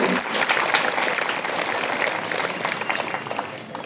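Students applaud at a Batakandi high school award ceremony after a science teacher is thanked, a dense, steady round of clapping that fills the whole stretch and tapers slightly toward the end.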